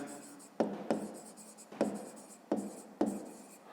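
Handwriting during a maths lesson scratches close by in short strokes, with several sharp taps and scrapes as the pen moves.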